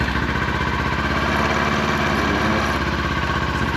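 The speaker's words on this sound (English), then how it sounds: "we're going to now let the bike run for a little bit" A Kawasaki Ninja 400 motorcycle idles just after an oil change, a steady close-up engine rumble with even rapid firing pulses and a faint mechanical rattle running throughout.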